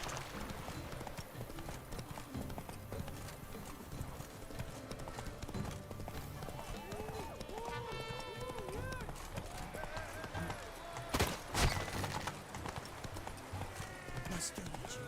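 Galloping hooves of Geralt's horse Roach in The Witcher 3, a steady clip-clop under game music, with a brief whinny and a short louder burst near the end.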